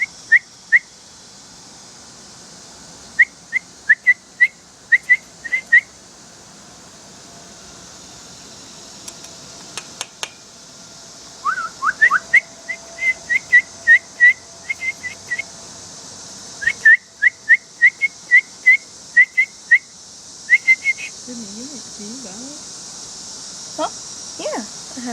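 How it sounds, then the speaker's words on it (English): A person whistles to an abandoned baby bird in rapid clusters of short, high chirpy notes, repeated in bursts with pauses, close by. Voices murmur softly in between under a steady fan-like hum. "Yeah, whistle."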